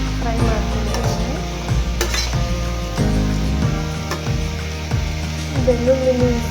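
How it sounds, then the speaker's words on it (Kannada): Chicken pulao ingredients with unpeeled garlic fry in a pan while a spoon stirs them, giving a steady sizzle broken by repeated scraping and knocking strokes against the metal. "ಚೆನ್ನಾಗಿ ಫ್ರೈ ಮಾಡ್ಕೊಂಡಿದ್ದೀನಿ"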